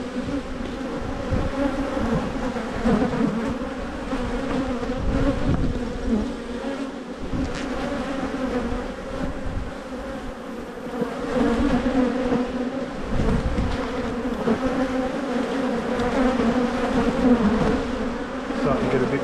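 Dense, steady hum of honeybees swarming around an open hive while brood frames are inspected, a continuous close buzz holding for the whole stretch with no talk over it.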